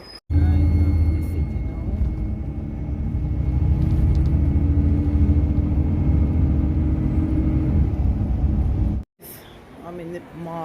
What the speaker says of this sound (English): Oh, here comes the bus.